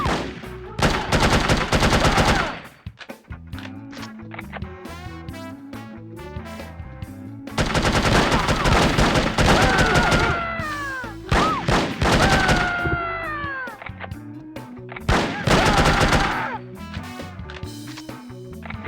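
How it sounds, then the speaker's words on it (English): Gunfire in No One Lives Forever comes in three loud bursts of rapid shots with echoing decay between them, backed by faint game sounds and whining ricochet-like tones. "These gunshot sounds are really good too."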